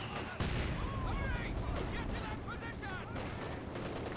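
Dense, continuous gunfire from a Kubelwagen in a Company of Heroes battle, loud and close with rapid overlapping shots and clatter, while voices chatter underneath.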